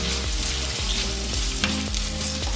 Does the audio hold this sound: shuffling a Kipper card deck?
no